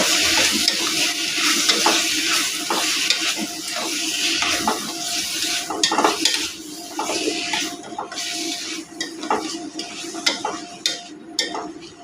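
A drumstick and tomato curry is stirred in a pan with a steady scraping rhythm over a continuous close sizzle of frying, and no one speaks.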